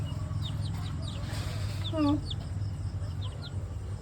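Native chickens cluck softly and intermittently nearby, with one louder squawk in the middle, over a low background hum.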